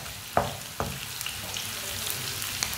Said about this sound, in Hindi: प्याज को भी 1 मिनट के लिए भून लेंगे। ऑयल बहुत गर्म है